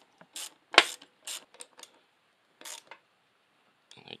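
A tool ratchets in short, quick bursts of clicks as bolts are tightened bit by bit on a Treker 4410 linear actuator. The clicks come close and crisp, separated by silent gaps.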